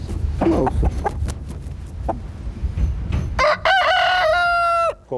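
A farmyard rooster crows loudly and close, a long drawn-out call in the second half, preceded by clucking and scattered poultry noises.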